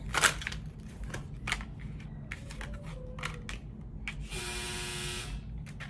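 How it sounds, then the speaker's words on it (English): A household washing machine or clothes dryer gives a loud, steady electric buzz lasting about a second, following scattered faint clicks and taps in a quiet room. "That was the washer or the dryer."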